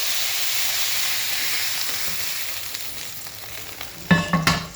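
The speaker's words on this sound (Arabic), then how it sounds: "هنزل بيها في الميه اللي تكون سخنه ومغليه" Seared meat for an okra stew is lowered into hot boiling water, a loud sizzling hiss that fades gradually, then a few sharp splashing bursts near the end.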